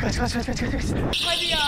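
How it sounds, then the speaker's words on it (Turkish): An alarm goes off during a video game escape challenge, cutting in abruptly as a loud, steady electronic buzzing drone right after hurried shouting, and continuing to the end. "Bu sefer alarm çaldı."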